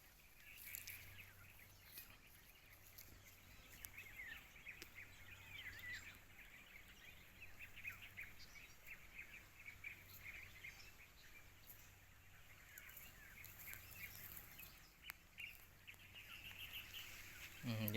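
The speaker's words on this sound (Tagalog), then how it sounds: "Yung mga huli ng ibon" Birds call faintly and repeatedly from a distance in open pasture where goats are grazing, their chirps scattered over a steady outdoor hum.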